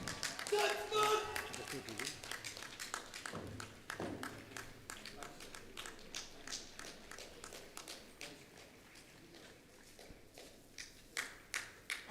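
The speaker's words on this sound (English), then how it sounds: "A big round of applause for the contingent commander, Mr. Jonathan Paul Alva." Scattered clapping from an outdoor Republic Day parade audience, a loose patter of hand claps that thins over time, mixed with taps and footstep-like thuds under background voices.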